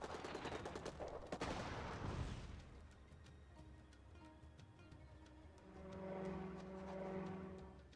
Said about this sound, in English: Airstrike time.